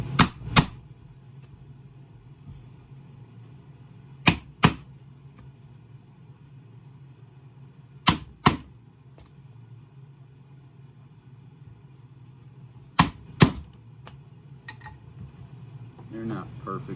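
A chisel strikes a wet-formed leather pouch to cut loop slots, sharp knocks coming in pairs roughly every four seconds, close and distinct over a faint low hum.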